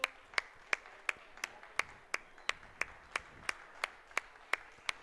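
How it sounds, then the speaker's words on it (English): Evenly spaced single claps repeat in a steady beat, about three per second, crisp and moderately close with no talking, at the Lunabotics 2025 competition at NASA's Kennedy Space Center. "let's give College of DuPage a big round of applause for this effort"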